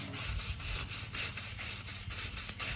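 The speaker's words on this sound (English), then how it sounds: "we're gonna start cleaning this with a brush, and it's just gonna start removing all that oxidization" Osborn V-groove scratch brush scrubbing oxidization off metal in a tight spot, giving a loud, steady abrasive rasp that surges in repeated back-and-forth strokes roughly twice a second, close up with no talking.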